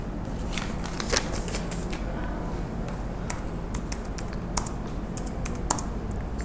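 Steady typing on a computer keyboard while entering program code, with dense, continuous clicks of keys at close range and a few sharper key strikes standing out, heard alone without talk.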